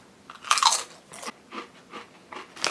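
Pipers Wild Thyme & Rosemary crisps crunch loudly and close up, with a sharp first bite followed by several rhythmic chewing crunches.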